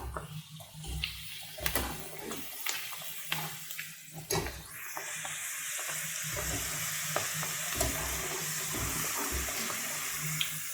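Food fries in hot oil in a pan, a broad crackling sizzle that grows steadier and fuller partway through, with scattered clinks and stirring knocks, and no one speaking.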